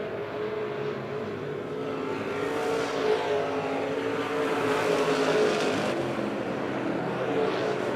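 Race cars circle Monett Motor Speedway in a steady, loud roar of engines, with the pack's sound swelling and fading as cars pass, and faint tire noise mixed into the continuous drone.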